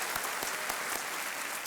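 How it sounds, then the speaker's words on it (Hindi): The studio audience of a quiz show welcomes a contestant with warm applause, a dense, even clapping heard at a steady volume throughout. "तालियों के साथ इनका एक बार फिर स्वागत किया जाए।"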